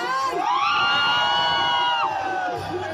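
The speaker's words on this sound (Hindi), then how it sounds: "एक बार तालियां शोर तो बजा दो" A large crowd at a public event cheers and shouts loudly, with high whoops and sustained yelling voices rising and falling across the whole stretch, clapping not clearly distinct beneath the noise.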